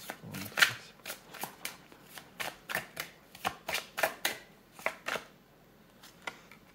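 Tarot cards being shuffled by hand, a series of about a dozen brisk riffling bursts in an irregular rhythm, close and crisp, ending in a short pause before one last soft flick.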